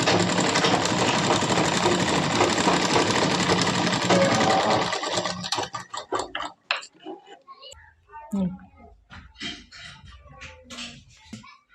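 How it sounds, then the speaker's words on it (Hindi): A sewing machine runs a steady, dense whirr while stitching along the edge of a frock, then stops after about five seconds; talking follows in a quiet room. "अब इस तरह से हम इस तरफ भी से किनारे पर सिलाई लगा लेंगे।"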